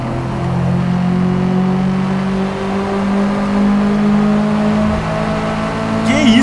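A tuned Subaru engine droning steadily as the car drives in the Forza racing game with traction control off, a sustained loud hum with slight pitch shifts and a brief rise near the end.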